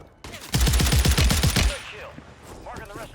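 A rapid burst of automatic gunfire in Call of Duty Warzone 3, about a dozen sharp, loud shots in quick succession, followed by quieter scattered game sounds.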